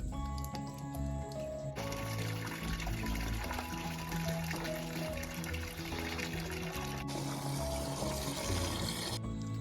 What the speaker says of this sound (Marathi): गणेशनगर गावचं सार्वजनिक नळ